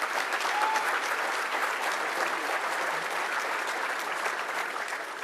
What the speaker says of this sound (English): Please, another big round of applause for Civilian of the Year.